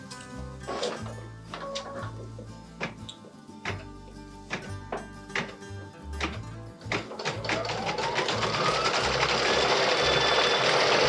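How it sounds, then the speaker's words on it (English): An embroidery machine sews a decorative stitch on a Bella Box screen design, giving a quick, rhythmic run of tapping thunks up close that settles into a denser, steady mechanical whir in the later seconds. "we can return it back to the machine for the decorative stitch"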